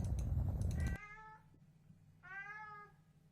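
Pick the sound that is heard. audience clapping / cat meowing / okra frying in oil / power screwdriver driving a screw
cat meowing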